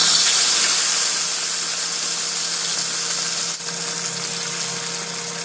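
Pieces of fish frying in hot oil on a tawa give off a steady, bright sizzle and hiss, close and even throughout with only a brief dip partway.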